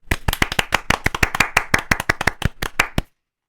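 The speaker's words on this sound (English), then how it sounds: "let us all give a round of applause to our most important star of the movie" A small group claps by hand, sharp distinct slaps in a quick irregular rhythm, close and loud, for about three seconds before stopping abruptly into silence.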